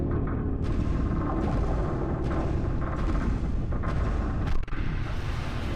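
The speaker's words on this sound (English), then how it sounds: "Really good explosion effects." Sustained, loud rumbling explosion effects in a video game, a continuous dense roar with repeated bursts layered on top and one sharp blast near the end.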